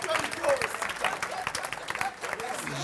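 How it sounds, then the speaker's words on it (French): An audience at an improv match applauds the two teams, uneven clapping from a modest crowd, fairly soft and distant, mixed with a few voices. "Je voudrais une belle main d'applaudissements, s'il vous plaît, pour les deux équipes"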